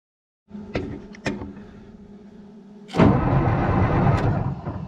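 A John Deere 544 loader's engine, started by wiring straight to the starter, cranks with a whirring starter and a few sharp clunks, then fires and catches into a loud, rough running roar close by.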